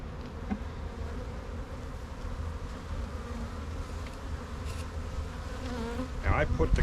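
Honeybees buzzing in a hive, a continuous low droning hum close by, with a brief rustle near the end.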